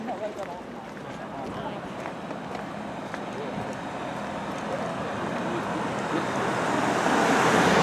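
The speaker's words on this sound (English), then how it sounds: "I don't know if you can hear in the distance, but the sea" Calm sea at Beaumaris on Anglesey, a soft broad wash of distant waves blending with faint road traffic and wind, rising gently toward the end, with no voices.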